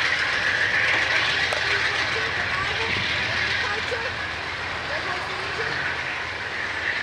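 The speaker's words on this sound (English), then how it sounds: "Amtrak 314 departure." Amtrak 314 train departing, a continuous loud rumble of rail cars with steady broadband noise and faint clicks, the train close by and passing throughout.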